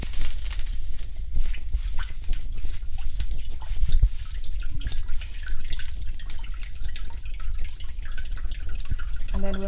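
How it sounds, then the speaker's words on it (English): Cold water runs from a kitchen tap into a bowl for soaking fries, a steady close splashing and dribbling stream with scattered drips, continuing throughout. "so now I'm going to put some cold water."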